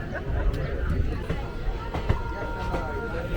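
A passenger train on the Madurai–Sengottai line rumbles along with steady low wheel and carriage noise, occasional clanks, and a murmur of passenger chatter underneath.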